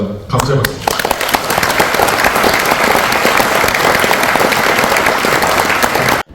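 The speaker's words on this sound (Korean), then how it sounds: "다시 한번 감사의 박수" Loud, dense applause of thanks from a large crowd at a company's 40th anniversary celebration, sustained evenly for several seconds before stopping abruptly.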